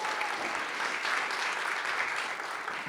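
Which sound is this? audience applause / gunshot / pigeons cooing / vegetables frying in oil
audience applause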